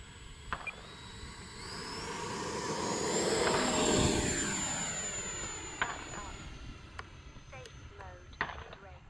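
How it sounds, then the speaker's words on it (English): An E-flite Viper RC jet plane makes a flying pass. Its turbine-like whine swells toward the middle and then fades as it passes, with a few sharp clicks and knocks nearby. "Absolutely loving this plane, this jet."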